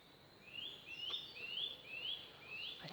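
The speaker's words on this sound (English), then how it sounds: "I think that's a nuthatch somewhere lurking up there. I'm sure that's the noise they make." A nuthatch in spring woodland repeats a series of thin, rising whistled notes, about five evenly spaced calls from some distance, faint over quiet forest background.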